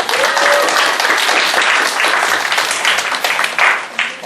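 A church congregation applauds warmly at a communion service, with sustained, dense clapping close by for several seconds and a few voices faintly mixed in.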